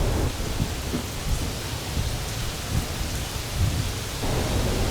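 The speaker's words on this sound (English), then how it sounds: "then the rain came." Steady rain pours down over a cypress wetlands bird rookery, a dense, even hiss with occasional low rumbles throughout, and no voices.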